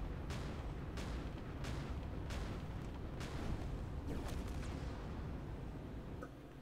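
A 150mm autocannon firing in Space Engineers, a series of heavy booming shots at an irregular pace over a dense, continuous rumble.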